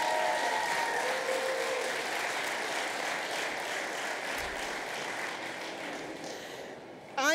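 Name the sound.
round of applause for young people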